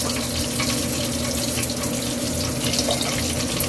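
Water poured into a pan to simmer pork pares, a loud, continuous rushing splash that stays steady from start to finish with no voices.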